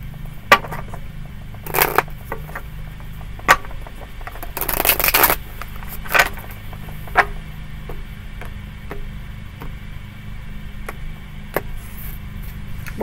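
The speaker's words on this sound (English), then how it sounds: "couple more shuffles" Tarot cards are shuffled nearby in a few quick riffling bursts, separated by soft taps and light clicks against a quiet background.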